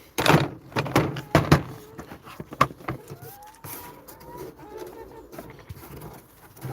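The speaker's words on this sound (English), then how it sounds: "Get the door back on" Chicken coop door on an allotment being fitted back into place, with several sharp wooden knocks and thunks early on, then quieter rattling and shuffling, while birds murmur faintly in the background.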